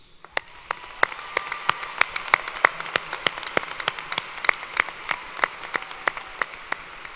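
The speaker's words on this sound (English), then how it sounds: "Please join me in applause to acknowledge the scholastic achievement of all of these" Scattered applause at a university spring commencement ceremony, with individual sharp claps standing out over a steady low patter from the crowd, moderately loud and with no voices.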